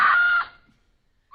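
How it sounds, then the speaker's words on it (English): A mountain lion's screech played back from a recording: one loud, harsh, sustained high cry lasting under half a second, then a quick fade to near silence before another sharp cry begins. "we're watching a video of it screeching"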